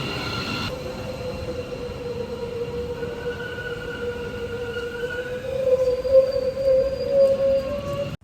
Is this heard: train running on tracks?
yes